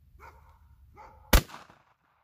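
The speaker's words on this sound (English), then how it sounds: "I shot that on my Glock 21 with the Lone Wolf replacement barrel, 4-inch barrel." A Glock 21 pistol with a 4-inch Lone Wolf replacement barrel fires one .45 ACP hybrid hollow point round outdoors. The single sharp, loud crack stands out from faint background sounds and fades quickly.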